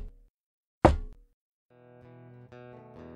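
One loud, heavy knock of a lance butt against a door, sharp and close, followed by a short stretch of quiet and then a sustained tonal musical drone.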